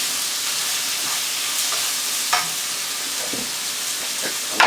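Callaloo frying in a pan gives a steady, close sizzle that fills the whole stretch, with a few light clinks and stirring scrapes breaking through.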